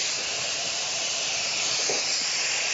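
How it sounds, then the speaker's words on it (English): Icing-sugared pears laid on a hot char-grill pan give a loud, steady, broadband hiss and sizzle, close and continuous with no talking over it. "Dust them liberally with icing sugar, yes, icing sugar, and then pop them on the char-grill pan"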